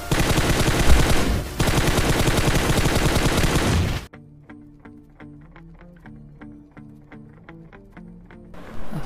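Gunfire in the mobile game Battlegrounds Mobile India: a dense, loud burst of rapid automatic fire, then a quieter run of evenly spaced single shots ringing out one after another, and a final loud burst at the end.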